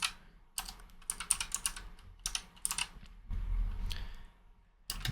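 Fingers type on a computer keyboard in quick clustered bursts of crisp key clicks separated by short pauses, close and fairly quiet, with no voices.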